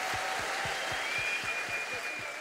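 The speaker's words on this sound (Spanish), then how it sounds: "Creo que sería un buen momento para con una gran ovación saludar al pueblo palestino" Audience ovation at the opening of a Latin American social sciences conference honoring the Palestinian people, with steady broadband clapping throughout, fairly loud and continuous.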